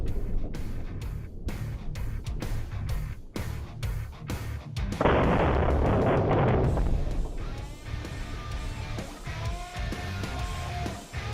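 An AK-50 rifle fitted with a new muzzle brake fires outdoors, a burst of sharp, distant cracks followed by a louder, sustained blast of noise lasting a couple of seconds, then fading into quieter rumbling and ambience.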